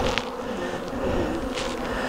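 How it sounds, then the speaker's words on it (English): Honey bees buzz around a small nucleus hive, a continuous close droning hum with individual insects passing near, alone without talk. "when the field bees leave this nuke, where are they going to go?"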